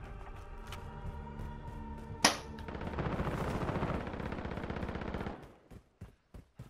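In a Call of Duty: Modern Warfare match, a sharp shot rings out, followed by a sustained burst of rapid automatic gunfire lasting about three seconds, then a few scattered single shots as it trails off.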